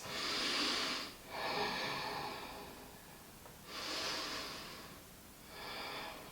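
Deep breathing during a strong yoga flow, four slow, airy breaths heard close and soft, each a long rush of air followed by a quiet gap.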